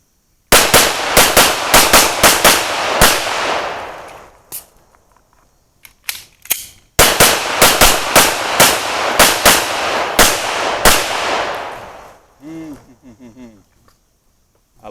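Rapid strings of loud, sharp gunshots from a Sig Sauer P320 X5 Legion pistol, fired close in two long volleys separated by a brief lull with a few scattered shots and faint handling noise.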